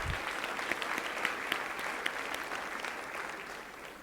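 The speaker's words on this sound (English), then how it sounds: "Give them a big applause." Applause from a gala audience at the Mandarin Oriental in Washington, D.C.: dense, even clapping from a sizable crowd with a few sharper individual claps standing out, quiet and distant overall, fading slightly at the end.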